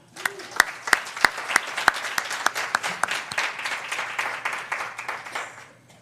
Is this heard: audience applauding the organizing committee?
yes